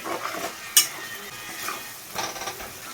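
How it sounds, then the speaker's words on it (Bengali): Tomato paste and spices frying in a pan for a Bengali chicken kosha, a soft sizzle under scraping stirs and a sharp clink of a spoon against the pan, close and moderately loud. "এবার টমেটো বাটাটা দিয়ে দাও এই মশলাটা কষতেই যা টাইমটা লাগবে"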